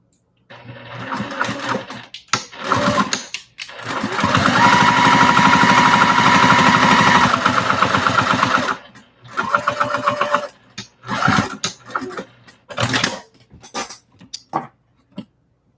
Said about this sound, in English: I'm going to sew the bottom of that again and move that line up